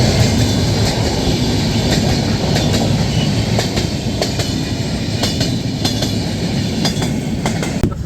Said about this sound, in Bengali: আমাদের ট্রেন ছেড়ে দিল শিয়ালদা স্টেশন